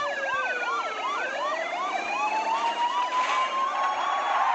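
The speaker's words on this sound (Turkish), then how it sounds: "maalesef gördünüz polis araçlarını. Üçü birden adeta üzerime çullandı." Several police car sirens wail in the driving game Car Simulator 2, their overlapping up-and-down tones sweeping steadily and loudly throughout with no talking.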